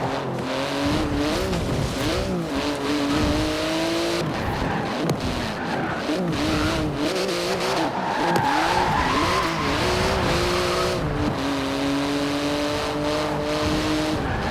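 A Porsche GT2 RS, a 700-horsepower rear-wheel-drive car with a titanium exhaust, is driven hard: the engine revs up and down through repeated gear changes, and tires squeal in bursts, close and loud throughout.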